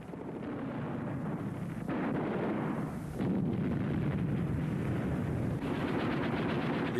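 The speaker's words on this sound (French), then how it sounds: "Le détachement de Wespe place ses canons en position de tir pour pilonner l'ennemi" Wespe self-propelled artillery guns fire in a German armoured artillery battle, and a dense, continuous roar of loud booming blasts rolls on with no pause.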